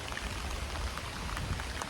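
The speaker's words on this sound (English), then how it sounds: "It's literally raining right now." Heavy rain pours down during a tornado storm, a dense, continuous hiss of drops striking surfaces nearby, with no voices.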